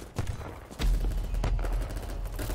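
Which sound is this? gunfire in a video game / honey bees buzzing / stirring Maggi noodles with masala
gunfire in a video game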